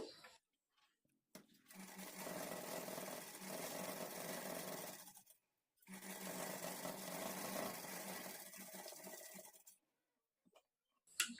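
An electric sewing machine stitches a half-inch folded edge of puff-sleeve lining in two sustained runs of several seconds each, a close, steady whirring hum separated by brief silences.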